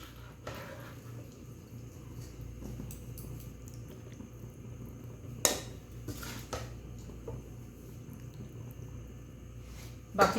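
Chicken curry ladled onto a layer of rice in a biryani pot over a lit stove, with a few soft wet plops and metal spoon clinks against the pot amid a steady low kitchen hum.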